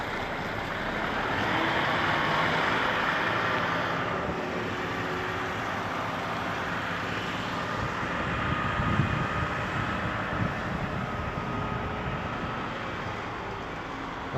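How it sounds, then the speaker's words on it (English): Trucks rumble out of a cement factory beside a canal, a continuous low engine drone and road roar that swells and fades as vehicles pass, with no voices. "Trucks just coming out now."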